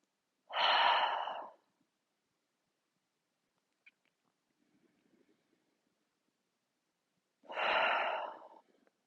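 Two deep breaths through the nose during a gentle morning yoga session, each a loud, close rush of air lasting about a second, separated by several seconds of near silence with faint rustling.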